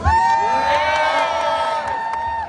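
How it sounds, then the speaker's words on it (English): Loud crowd cheering with whoops and shouts from an audience welcoming a speaker at a live event, with sustained excited voices filling the full stretch and no clear clapping. "So give Jelani a big round of applause."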